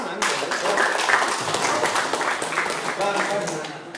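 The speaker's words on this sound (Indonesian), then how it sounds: "Cukuplah Anda tepuk tangan." Audience in a motivational session for Thousand Islands municipal police officers applauding, a dense, steady wash of many hands clapping for about four seconds, fairly close, with voices mixed in.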